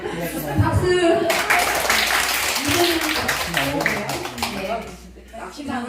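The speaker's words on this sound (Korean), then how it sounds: "박수." A church congregation at an afternoon worship gathering breaks into sustained, dense applause that fills the room for several seconds, with a few voices mixed in, before it thins out near the end.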